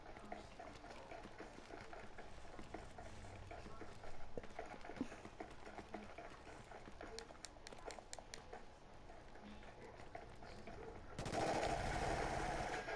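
Rapid gunfire in the shooter game Killzone Shadow Fall, bursts of shots crackling through a busy battle mix, with a dense, louder blast of noise near the end.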